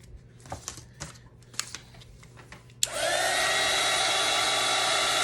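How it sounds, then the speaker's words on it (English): A small handheld heat dryer whirs steadily while drying acrylic paint. It starts abruptly after a few soft taps and clicks, then runs loud and close with a constant high-pitched blowing hum. "but this little dryer thing is a lifesaver"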